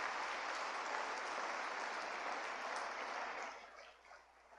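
Steady applause from a church congregation during a sermon, a dense even wash of clapping that tapers off in the last second or so.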